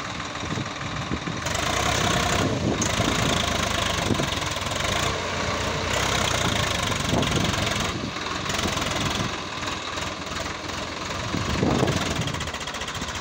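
A Swaraj 744 tractor engine runs steadily: a loud, continuous diesel drone with slight knocking texture and some surges, heard close up, with no talk.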